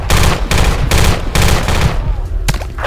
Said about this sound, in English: A lot of gunfire on my body.